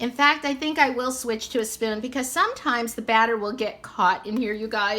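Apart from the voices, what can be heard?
No everyday noise stands out behind the speech.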